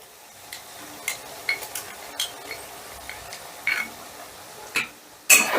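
Spice paste being fried and stirred in a pan as cashew paste goes in, heard as intermittent scraping and clinking of a spoon against the pan over a soft sizzle, ending with a louder burst.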